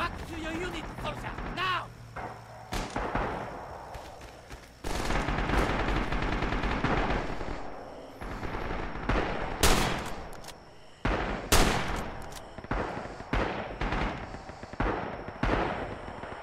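In the Rising Storm video game, gunfire crackles and frag grenades burst near a building, sharp shots and heavy blasts scattered across the scene while a voice speaks over the combat.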